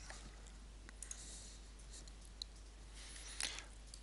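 A single faint mouse click sounds in a quiet room, followed by a couple of other small clicks, with no talking.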